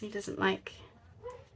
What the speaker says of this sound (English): You have to excuse my dog if you can hear him